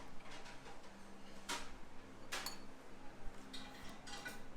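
Makhana chaat tossed with green chutney in a bowl produces quiet scraping and a few light clinks of a spoon against the dish, close by, with no talking.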